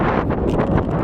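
Strong wind buffets the microphone on a mountain hike at Shortoff Mountain in North Carolina, a continuous low roaring rumble with gusting swells and no talking.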